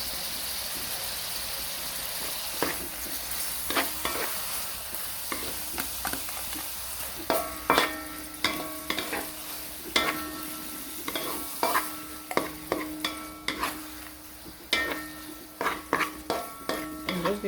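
Seafood with holy basil and dark soy sauce stir-frying in a pan, a steady broadband sizzle with repeated sharp clinks and scrapes of a utensil against the pan growing more frequent toward the end.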